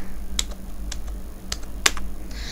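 Typing on a computer keyboard while entering a formula in Excel, a handful of sharp, irregular key clicks spaced through a couple of seconds, close and clear over quiet background hum.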